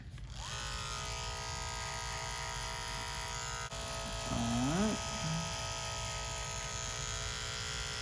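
Electric hair clippers with a detachable blade buzz steadily while cutting a skin fade, a close continuous hum running throughout, with a voice speaking briefly over it midway.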